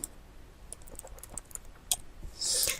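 Quick keystrokes on a computer keyboard typing a single word, a short burst of light clicks close by, ending in a brief louder rustle.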